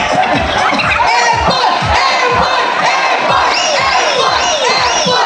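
A large comedy show crowd cheers and shouts continuously, with rhythmic clapping pulsing underneath, loud and dense throughout.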